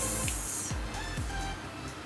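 An electric blender whirs steadily while mixing baking ingredients, a loud, continuous motor drone with rhythmic low thumps as the contents churn.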